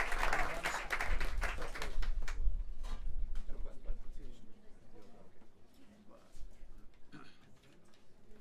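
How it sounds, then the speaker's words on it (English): An audience at a jazz club applauds a quartet led by a trumpet player, a burst of dense clapping that thins into scattered claps and fades, with crowd murmur and a voice speaking underneath. "please give a big round of applause to Fabian Mary, everybody"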